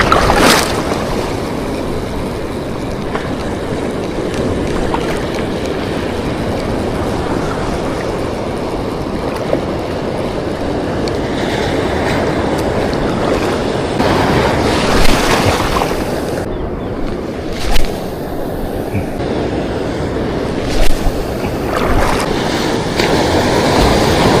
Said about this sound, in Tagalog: palaki na yung mga alon delikado na